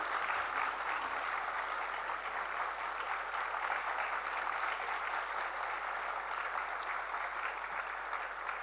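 Sustained applause from a large audience at a university annual day and convocation ceremony welcoming the President of India, steady, dense clapping for several seconds at moderate distance with no speech.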